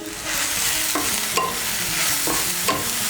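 Loud steady sizzle of shola kochu taro stir-fry with green chillies frying in a pan, with a few scraping stirring strokes cutting through the hiss, close up and with no voices.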